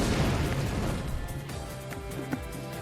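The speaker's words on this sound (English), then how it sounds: "An explosion occurs right next to me." A burst of explosion in the visual novel Riddle Joker, a loud boom that fades into a rumbling tail with lighter pops and scattered debris sounds, heard up close and alone.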